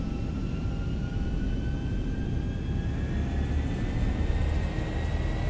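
Twin engines of a Zibo Boeing 737-800 in X-Plane 11 spool at takeoff power, a steady loud roar with a rising whine held for several seconds, no voices over it.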